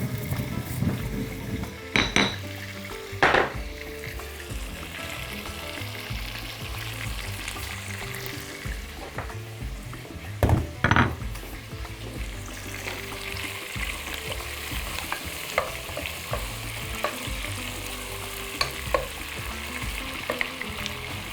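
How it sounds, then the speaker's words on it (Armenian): Meat pieces browning in a pot for a creamy soup with cheese balls give a steady close sizzle, with occasional clinks and scrapes of stirring breaking through, and no talk. "Հենց մսակտորները կարմրեցին"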